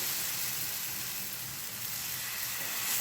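Marathi thalipeeth flatbread roasting on a pan, a steady close sizzle and hiss running evenly throughout with no talk.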